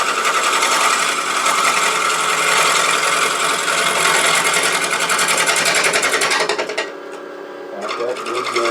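Turning gouge riding the bevel across a large cherry burl bowl spinning on a lathe, a steady loud buzzing scrape with motor whine that continues for most of the clip, then drops away abruptly near the end.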